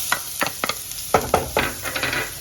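Pork frying in a pan with chopped garlic, a steady sizzle broken by several scraping stirs of a utensil, close and moderately loud, no voices.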